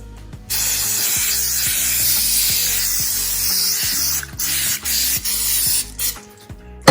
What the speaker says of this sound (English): I'm gonna just put some cooking spray on top of it here